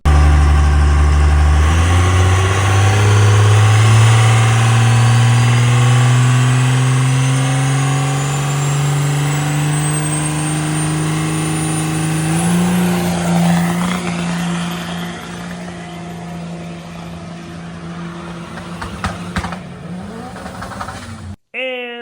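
A 12-valve Cummins diesel race truck with no intake tube launches on an eighth-mile drag run, its loud engine climbing steadily in pitch through the gears for about twenty seconds before cutting off sharply near the end.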